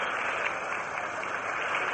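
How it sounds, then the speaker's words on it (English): Scattered applause from White Sox fans for pitcher Wynn during World Series Game 1 against the Dodgers: a muffled, even crowd patter on an old radio broadcast, with no distinct claps standing out. "some of the White Sox fans still give Wynn a rippled applause as he returns to the White Sox dugout"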